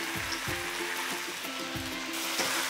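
Rice noodles with garlic leaf and bean sprouts sizzle steadily in a hot pan for Pad Thai, with repeated scraping stirs of the spatula breaking through the constant frying hiss.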